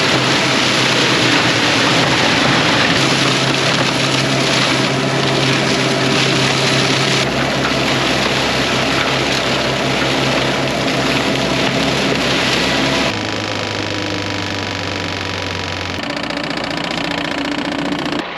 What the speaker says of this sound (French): maintenant, je vais finir tous les chantiers avec ce broyeur là